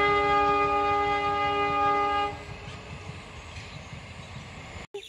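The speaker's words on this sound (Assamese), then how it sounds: "ট্ৰেইনখন আহি পাল" A train passing beside a tea garden near Bongaigaon sounds a loud, sustained horn for a couple of seconds. The horn gives way to the steady rolling rumble of the cars.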